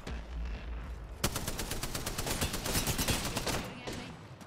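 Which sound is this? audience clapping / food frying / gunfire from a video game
gunfire from a video game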